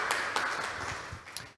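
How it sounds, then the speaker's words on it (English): An audience applauds after a talk at a startup ecosystem event, a thin scattering of individual claps, moderately close and irregular, fading out at the end. "The applause is well deserved, Christina"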